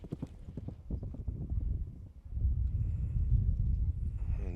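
Polo pony hooves clip-clopping on a grass field at the British Open, a quick run of close, distinct hoofbeats that fades into wind and crowd-like rumble.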